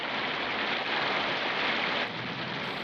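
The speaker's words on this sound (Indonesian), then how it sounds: "hujan turun dengan sangat deras" Heavy rain pouring down in a steady, dense, unbroken hiss with no pauses, loud and close throughout.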